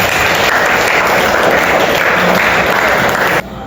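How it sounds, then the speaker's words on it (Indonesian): Loud, dense applause from the audience at an Indonesian language class session, a continuous wash of clapping from a full room that stops abruptly near the end. "Tepuk tangan lagi."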